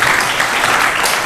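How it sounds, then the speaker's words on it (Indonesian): Audience applause at a school religious presentation, a dense, loud, continuous clapping from a crowd that fills the short moment. "Beri aplaus dulu ya."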